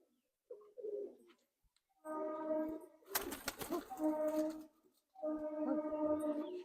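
Long-bodied Madrasi Giribaz and Malwai pigeons coo close by in three separate bouts, each a rolling, throaty series of calls, with brief fluttering between them.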